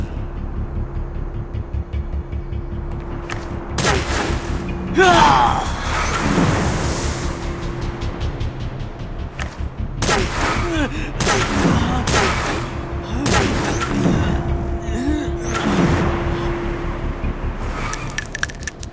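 Gunfire in the Dragon Raja mobile game, a scattered burst of sharp shots and clattering impacts spread through the scene, with booming hits and ringing tones, loud and close.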